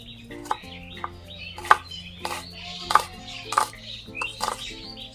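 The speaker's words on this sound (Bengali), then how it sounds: "পেঁয়াজ আমি ছোটো ছোটো করে কেটে নিচ্ছি" A knife chops onions into small pieces for a cabbage and meat curry, giving crisp, separate taps at an irregular steady pace over a low background hum.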